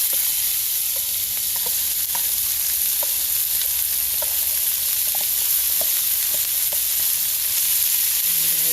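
Chopped onion, green and red bell pepper and a little minced garlic sizzle steadily in a hot pan, a loud continuous frying hiss with faint scattered pops and stirring scrapes, no talking.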